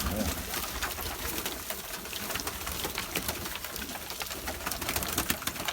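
Pigeons coo repeatedly in a busy, continuous chorus close by, with a murmur of voices mixed in.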